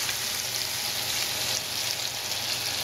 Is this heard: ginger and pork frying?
yes